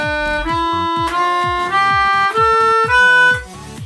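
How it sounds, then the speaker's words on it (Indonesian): A pianika runs through a scale of middle-octave notes, bright reedy tones rising one after another in even steps, loud and close with no talking. "Itu adalah nada dengan oktav standar, yaitu di tengah-tengah."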